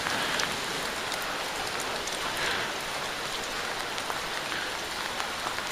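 Steady rain falls outdoors near a full brook on a wet winter day with little snow left, a dense continuous hiss of drops on surfaces with no voices.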